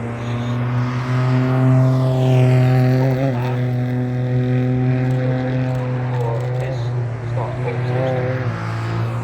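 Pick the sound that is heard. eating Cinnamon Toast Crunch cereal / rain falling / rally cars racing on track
rally cars racing on track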